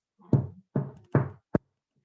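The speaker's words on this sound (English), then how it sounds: "the king hears a knock at the door" Four knocks on a door, three firm raps followed by a quicker, sharper final one, close and clear against a quiet background.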